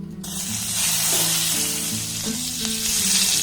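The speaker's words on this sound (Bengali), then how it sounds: "এর মধ্যে এক চামচের মতো বাটার আমি দিয়ে দেব" Butter sizzles and fries loudly in a hot pan for chicken soup, a continuous bright hiss with faint stirring scrapes and tonal clinks underneath, no talking.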